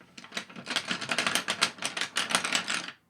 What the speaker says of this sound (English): Sorry for that noise. So many pencils here.